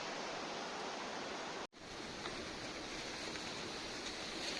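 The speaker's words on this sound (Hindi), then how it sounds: "ये है वाटरफॉल।" A waterfall pours with a steady, dense broadband rush. There is one brief dropout near the middle, and no voices.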